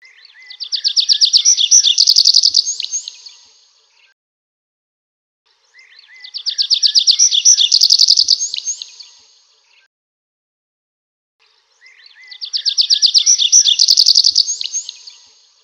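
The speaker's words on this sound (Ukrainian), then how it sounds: "скільки разів ви почуєте спів пташок та дзищання бджілок" Three separate bursts of high, bright birdsong, each a few seconds long with equal quiet gaps between, clear and close with no other sound.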